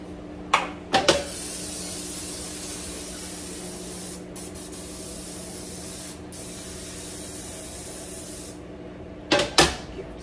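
Close, loud spray from a can hisses in one long continuous burst of about eight seconds inside a home. A few short spritzes and clatters come at the start and end, with no talking.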